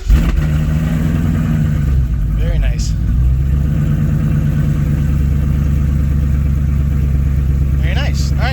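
Red car engine after an MSD harness install, firing up with a few sharp revs, then settling into a loud, steady rumbling idle with brief blips later; a short spoken remark comes in near the end.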